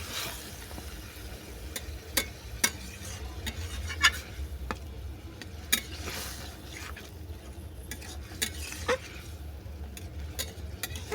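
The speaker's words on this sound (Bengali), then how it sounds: "আমি 5 মিনিট ধরে ভালো করে কষিয়ে নেব।" Gab leaf vorta mixture being sautéed in a pan, a soft steady sizzle broken by sharp scattered clicks and scrapes of a utensil against the pan, close with no talking.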